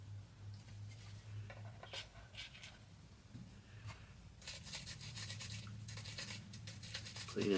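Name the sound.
brushing clean the feed ramp of a KelTec PMR 30 pistol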